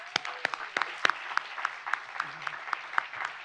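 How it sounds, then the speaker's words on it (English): An audience applauds at a closing-night event, a steady spread of hand claps with a few sharper claps standing out, moderately loud and continuing throughout with no talking. "join me in applauding them and welcoming them to the spotlight for a change"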